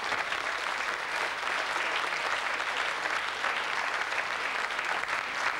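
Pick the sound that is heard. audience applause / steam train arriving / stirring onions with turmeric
audience applause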